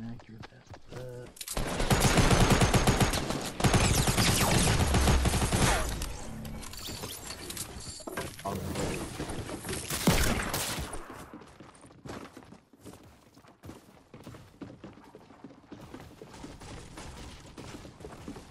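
Fortnite automatic gunfire with a loud sustained burst of rapid shots early on, followed by scattered bursts and single shots, while someone talks over the fighting.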